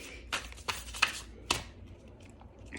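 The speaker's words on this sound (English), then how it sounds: "It's got a lot of cards, so it's kind of like an awkward shuffle." A large tarot deck is shuffled by hand in a few separate crisp riffles and snaps, close and fairly quiet, spaced irregularly over a soft background.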